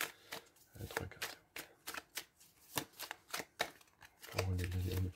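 Tarot cards shuffled by hand before a three-card draw make a run of quick, close riffling and slapping bursts in an uneven rhythm, with a voice speaking quietly beneath them.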